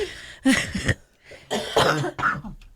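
Two bursts of coughing close to the mic, a pair of harsh coughs followed after a short pause by another rough double cough.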